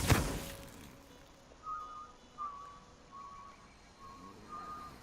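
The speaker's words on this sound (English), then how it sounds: "why they're all whistling in unison, which is honestly the creepiest part" Women whistle in unison in the video game Dishonored 2, a faint wavering tune repeated in short phrases after a brief thump at the start, over quiet ambient background.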